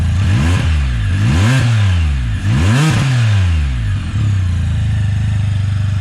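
A loud Can-Am Spyder engine with an Akrapovic exhaust revs up and down repeatedly in rising and falling sweeps, then settles into a deep, throaty idle close by.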